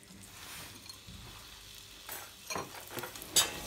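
Soft frying sizzle of onions in oil in a saucepan, joined by clinks and scrapes of stirring that grow sharper toward the end.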